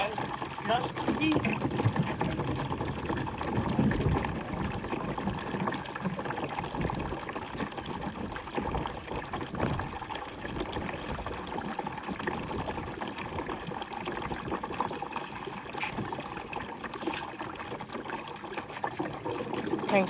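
A homemade five-gallon toilet flushes and its tank refills, giving a steady, loud rush of running and trickling water throughout, with a person talking over it.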